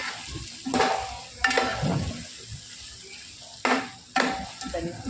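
Chili powder is stirred into frying chicken in a pan, with sizzling and several distinct scraping stir strokes.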